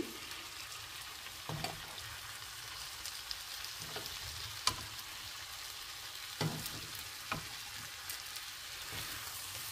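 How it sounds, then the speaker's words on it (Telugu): Rice frying in ghee for paneer biryani, a steady soft sizzle throughout with occasional sharper stirring scrapes and pops, no voices. "కొంచెం రైస్ దీనిలో వేయించితే నేతిలో చాలా బాగుంటుంది."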